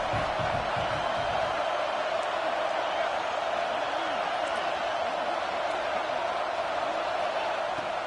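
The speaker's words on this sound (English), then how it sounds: "Here comes second down, and this crowd is turning it up a notch." A college football stadium crowd roars steadily before a second-down play, a dense, constant wall of cheering and noise that fills the space without letup.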